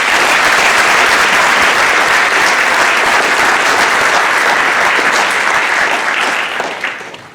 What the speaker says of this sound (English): If we could give everyone a round of applause.